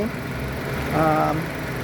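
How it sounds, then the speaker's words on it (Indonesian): A 2005 Nissan X-Trail T30 with a 2.5-litre four-cylinder engine, front-wheel drive and automatic gearbox idles with a steady low hum, while a brief voiced tone rises over it midway. "Nah, Nissan X-Trail ini mengusung mesin 2500 cc."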